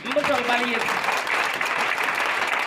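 A church congregation applauding and cheering in acclaim of Jesus during an evening preaching service, dense sustained clapping and voices filling the hall over a brief moment of speech at the start.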